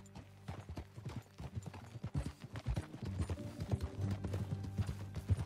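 Horse hooves clip-clopping at a steady riding pace in the Red Dead Redemption 2 video game, rhythmic close thuds building louder, with tack jingling and low ambient music.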